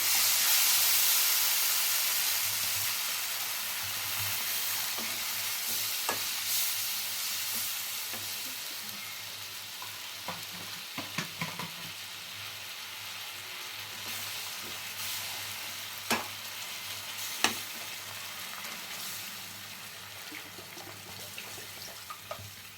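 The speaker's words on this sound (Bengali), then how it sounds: "অল্প অল্প করে জলটা মেশাবো" Fried flour, onion and garlic crackle in a pan as water is mixed in, a steady sizzling hiss with scattered scraping stirs and occasional clinks, close and fairly quiet, no talk.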